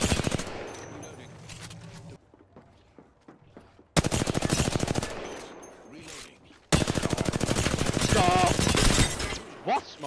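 Automatic gunfire in a video game: three separate bursts of rapid, loud shots with quiet gaps between them and brief voices in the background.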